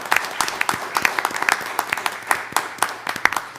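An audience claps for a group of teachers at a school board meeting, with distinct, fairly sparse hand claps in an uneven rhythm that run steadily for several seconds in a room.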